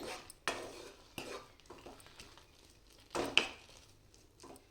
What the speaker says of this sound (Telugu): మళ్ళీ మూతను తీసేసుకొని ఒకసారి బాగా కలుపుకోవాలి